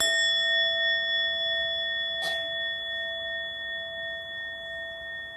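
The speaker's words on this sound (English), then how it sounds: "you invite the bell to sound for a second time." A meditation bell is invited to sound once at a mindfulness retreat, its single clear strike ringing over a steady sustained hum of tones that hang through the whole quiet moment.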